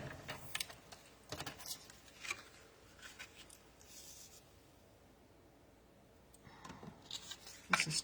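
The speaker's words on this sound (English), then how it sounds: "I'm going to cut this down a little bit." Designer series paper being cut down to size for card making, with a few soft, sparse snips and light paper rustles close by in an otherwise quiet room, spaced irregularly with a louder cluster near the end.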